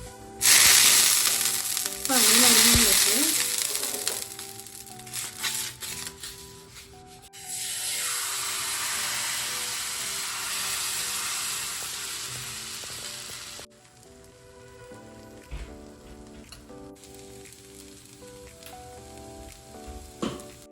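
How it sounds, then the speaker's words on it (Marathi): Tomato dosa batter sizzling on an oiled griddle, a steady close frying hiss with scraping and rubbing sounds, swelling and fading in bursts, no talking. "तेल थोडंसं तव्यावर आपण पसरून घेऊया व्यवस्थित"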